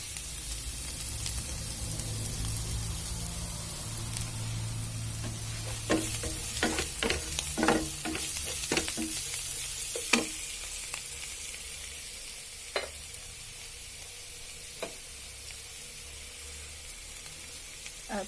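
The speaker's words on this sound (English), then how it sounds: "Give it a quick stir. Let it fry well." Bottle gourd kofta curry masala sizzles and fries steadily in a pan while a spoon stirs it in a series of scraping strokes, loudest in the middle stretch, then fades to a gentler simmering fry with occasional clinks.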